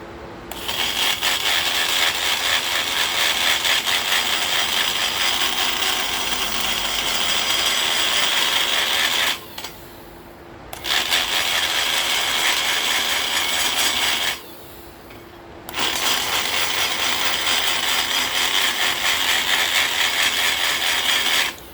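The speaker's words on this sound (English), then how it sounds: "I can't stand the sound of the grinder on the iron" A harsh, steady metallic grinding of a grinder on cast iron Ford GT40P cylinder heads runs loud and continuous, cutting out briefly twice before resuming, with no talking.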